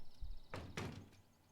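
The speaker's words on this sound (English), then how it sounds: "She slammed the door loudly." A door slams in the video game Everlasting Summer, giving two quick, close thuds in succession over faint background noise and fading within a second.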